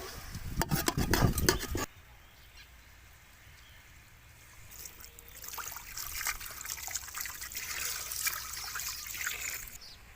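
Water pours and trickles into a pot of caramelized pig ears and tail amid clinking and stirring sounds, fairly quiet, after a brief burst of clattering at the start.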